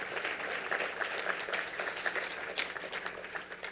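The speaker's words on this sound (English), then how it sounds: "Give yourselves a round of applause" A crowd of attendees at an emergency preparedness summit claps steadily, a thick, even round of applause that lasts a few seconds.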